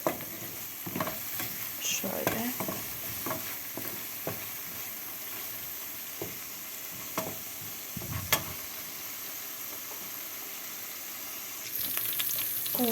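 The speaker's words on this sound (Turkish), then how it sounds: "Yağla etim kavrulacak biraz." Meat browns in oil in a pot for a chickpea stew, giving a low, steady sizzle with intermittent scraping and clunking from a spoon stirring nearby, and no speech.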